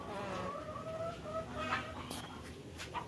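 Chickens on a cow farm clucking and calling softly in the background, with scattered short bird calls over a steady outdoor murmur.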